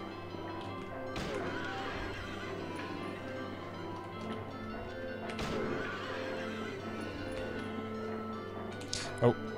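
A horse neighs in the Silent Hill 3 video game, a whinny rising over steady game music and ambience, with a short sharp hit near the end.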